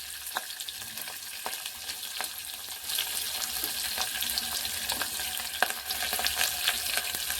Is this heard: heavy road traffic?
no